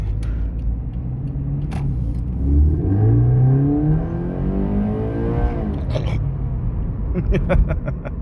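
A Scion FR-S engine rising and sweeping through revs, then settling back toward idle. The sound is close and steady throughout, with clicks and faint background noise near the end.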